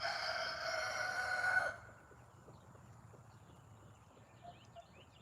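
Chickens in a coop call and crow loudly for about two seconds. After that, quieter, sparse clucks and bird sounds continue over a low, steady background.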